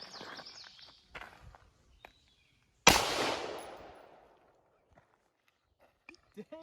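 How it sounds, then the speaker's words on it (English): An AR-15 rifle firing .223/5.56 rounds outdoors gives one loud, sharp gunshot with a long decaying echo, framed by quieter handling noises, footsteps and faint birdsong before and after. "Safety off, firing."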